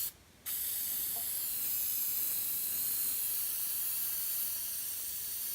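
An aerosol can of spray glue hisses in one long continuous burst after a brief initial spurt, close and steady, applied to foam blocks for an instrument case.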